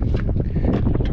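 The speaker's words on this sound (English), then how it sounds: "It's not even like a cool wind, it's just a hot wind." Hot wind gusting outdoors beside a truck at a farm delivery, a steady broad rush with buffeting against the microphone, loud and continuous throughout with no talking.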